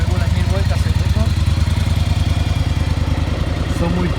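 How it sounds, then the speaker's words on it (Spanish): A Yamaha XV 750 Virago V-twin motorcycle engine idles at about 1000 rpm after carburetor synchronization, running steady and close with an even low pulsing throb for the whole stretch. "la moto suena muchísimo mejor. Se puede ver cómo regula 1000 vueltas el motor."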